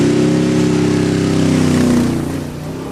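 An AC Cobra replica's 289 V8 engine with carburettor, about 400 horsepower, rumbles close by at a hill climb with a deep, throbbing burble that swells briefly, then eases off toward idle.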